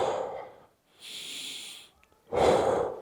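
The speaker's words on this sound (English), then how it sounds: "take some deep breaths" A person takes slow deep breaths close up, a long noisy exhale, then an airy inhale, then another heavy exhale, with short silent pauses between them.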